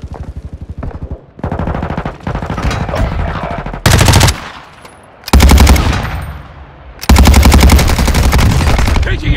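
Machine gun fire in Warzone 2.0 during a quad Resurgence match at Al Mazrah: loud, rapid automatic bursts with short gaps, the final stretches the heaviest and most sustained.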